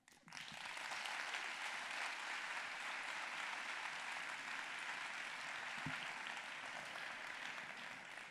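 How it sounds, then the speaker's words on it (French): Sustained audience applause at a thesis-in-180-seconds final in Nantes, a dense, even roar of clapping that starts abruptly and continues steadily throughout, heard from within the hall. "Je crois qu'on peut l'applaudir."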